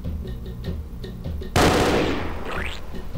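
A custom weapon fires in a SpongeBob Doom II mod game. A series of quick, evenly spaced shots is followed by a loud burst that rings out and slowly fades.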